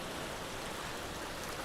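A steady ocean wash fills a live sound healing session with close, even, broadband hiss like surf, unbroken throughout and free of speech.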